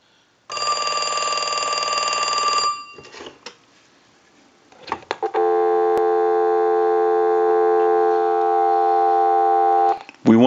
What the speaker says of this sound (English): I'll let it go one more time and we'll give you some dial tone.